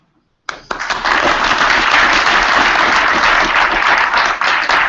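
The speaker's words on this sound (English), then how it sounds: "applause." A sudden burst of applause from a crowd, many hands clapping steadily and loudly for several seconds after a brief silence.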